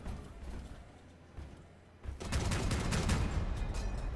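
A weapon volley fires at a vehicle in Crossout: after a quieter stretch of engine rumble, a loud burst of rapid overlapping shots erupts and keeps roaring in a sustained barrage.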